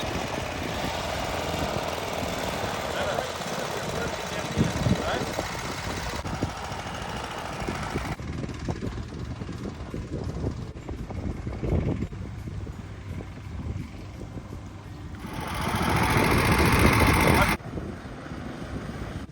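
A long-tail boat engine drives a homemade catamaran built from a fridge, a continuous rough droning hum that holds steady throughout and swells louder near the end, with wind and water noise mixed in and a voice faintly under it.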